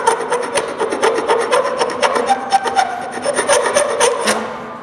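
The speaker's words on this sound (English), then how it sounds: "We're going to take a scraper and scrape off the glue." A hand scraper rasps dried residual glue off a glued-up wooden coffee table top panel in a workshop, making loud, steady, rhythmic strokes close by with no talking.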